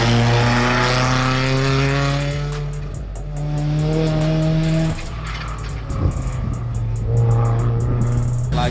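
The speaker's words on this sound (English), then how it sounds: "I just showed you some of the cars that are just flying by." Cars fly past one after another, their loud engine drones rising and falling in pitch as each passes close by, with a brief tire squeal and no talking.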